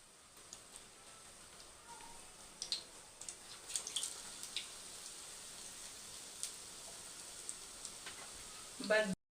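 Chili bajji fry in hot oil over a low flame, a faint steady sizzle with soft crackles and a few small bubbling pops, ending in a brief louder clatter.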